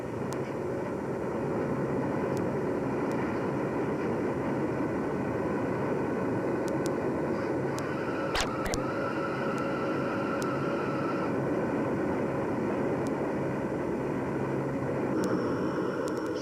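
A C-130 Hercules transport aircraft produces a steady, droning propeller and engine roar throughout. It is loud and constant, with a faint tonal whine and a brief sharp crack partway through.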